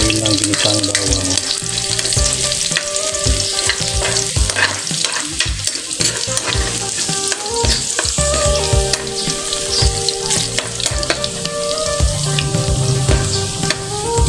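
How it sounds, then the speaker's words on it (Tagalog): Garlic browns in hot oil in a pan for adobong atay balun-balunan, with a constant loud sizzle and busy spatula scraping and stirring clatter running throughout. "Hintayin natin maging brown ng bawang bago isunod ang sibuyas."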